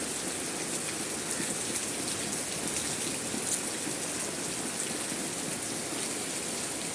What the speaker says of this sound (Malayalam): പെരും മഴയാണ്